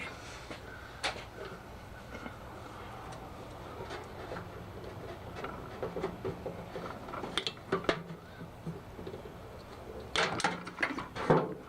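Wires being cut to free the transformer from a stripped-down microwave oven, heard as scattered snips, clanks and metallic scraping close by, with a cluster of louder clatter toward the end.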